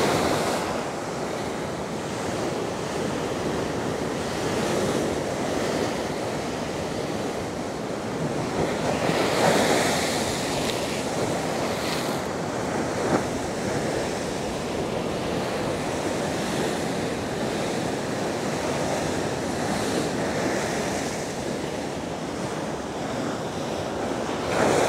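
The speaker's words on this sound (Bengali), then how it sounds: "উত্তাল সমুদ্র, উত্তাল।" Rough, churning ocean surf at Shankarpur beach roars steadily and loudly throughout, with heavy wind buffeting the microphone and occasional swells of breaking waves, no voices.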